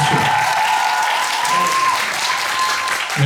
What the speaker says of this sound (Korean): 선생님 선생님하고 박수 한번